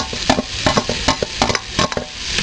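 Tomatoes sautéing in a pan for fish kulambu: a spatula scrapes and taps the pan in quick irregular strokes over a low sizzle, close and fairly loud, with no talking.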